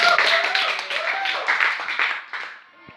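A school class claps together after a science experiment, a short burst of close, busy applause that fades over a few seconds, with children's voices mixed in.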